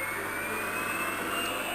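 An electric mixer whirs steadily at high speed while beating meringue, a close, continuous buzzing drone with no talk.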